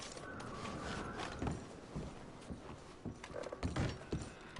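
Horses shift and clop in Red Dead Redemption 2, with soft, irregular hoof thuds, creaking tack and faint rustling close by. The sounds come at a low level with no talking.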